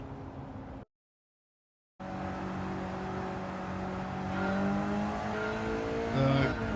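Race car engine in the Gran Turismo 7 video game on PS5, a steady droning engine note that rises as the car accelerates after a brief silent gap, with faint tyre noise near the end.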